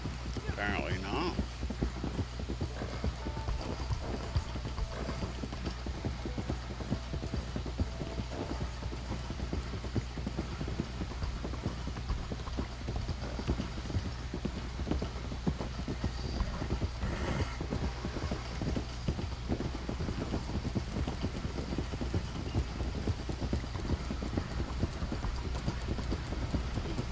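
Thoroughbred horse hooves clip-clop steadily through the Red Dead Online world, a continuous rhythmic trot at moderate level, with someone talking over it at times and light mechanical clicks mixed in.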